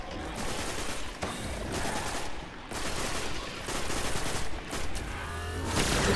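Sustained fusion rifle fire crackles in the shooter game Destiny, dense volleys of shots in bursts with brief gaps, loud and continuous throughout.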